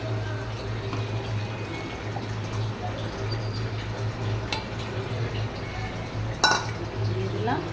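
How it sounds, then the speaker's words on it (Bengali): Rice being washed in a pot for payesh, with close clinks of metal, sloshing water and handling of utensils against a steady low hum of background noise. "দেখুন চালটা ধুয়ে দিয়ে দিচ্ছি আমি"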